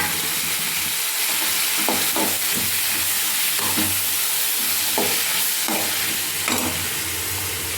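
Tomato sautéing with onion, curry leaves and salt in a pan for a spicy kara thuvayal chutney, a continuous loud sizzle with occasional stirring scrapes, close and steady, with no talking.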